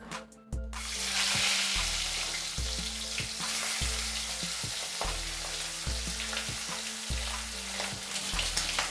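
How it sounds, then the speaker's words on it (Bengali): Fish heads rubbed with turmeric and salt frying in hot mustard oil in a kadai, a loud continuous sizzle with rhythmic spatula scrapes throughout, close and without speech. "মাছের মাথাগুলো ভেজে নেব।"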